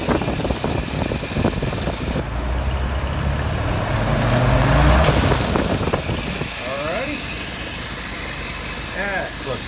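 A Kawasaki 636 motorcycle engine runs through a stumble test, a steady mechanical roar that swells in revs around the middle and then settles back to a lower, rougher drone.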